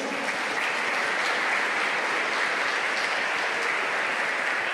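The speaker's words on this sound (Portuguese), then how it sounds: "Vamos aplaudir Jesus." A church congregation claps steadily and evenly, a dense continuous applause at moderate volume throughout.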